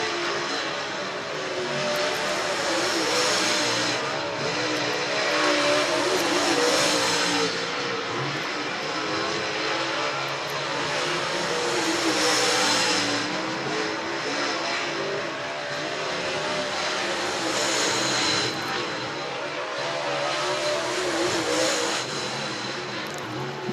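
Race cars on qualifying laps at Needmore Speedway, a dirt track in Norman Park, GA, engines roaring and revving as they sweep past in repeated loud surges, rising and fading around the track with no talk.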